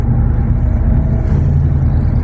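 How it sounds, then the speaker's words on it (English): A 1996 van cruising on the I-95 interstate, with a steady, loud low engine drone and road rumble filling the cabin continuously, no voices. "Sorry about the noise in the background, but this old van's not that quiet."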